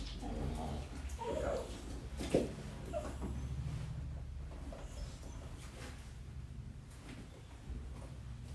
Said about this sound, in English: Oh, my dog is going to be with us today.